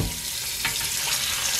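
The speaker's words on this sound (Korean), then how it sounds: "어느 정도 고기가 잠길 정도로 물을 넣고요." Water poured into a pot of braised spicy beef short ribs, a steady splashing rush with a brief louder gush partway through, heard alone.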